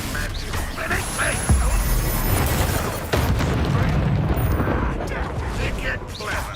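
Confringo blasting spell exploding in the Hogwarts Legacy game: dense, roaring booms and crackling bursts fill the scene continuously, with a sharp hit near the start and another midway, loud and close under a busy combat mix.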